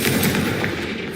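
A Confringo fire spell cast in the video game Hogwarts Legacy, a loud burst with a rumbling, explosive blast that fills the moment with no talk over it.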